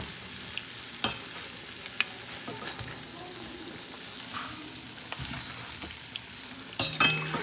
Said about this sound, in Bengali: তো সব বকফুলগুলো এইভাবে আমি ভাজা করে নেব